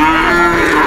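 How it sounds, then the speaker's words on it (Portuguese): A cow moos loudly and steadily at a cattle fair in Caruaru, Pernambuco, where a cow, calf and young bull are for sale; one sustained close call fills the whole moment over market noise. "O cidadão tá vendendo esse garrote aqui, juntamente com essa vaca e esse bezerro"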